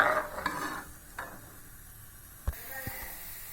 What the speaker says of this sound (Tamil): இப்போ நல்லா கிண்டலாம்.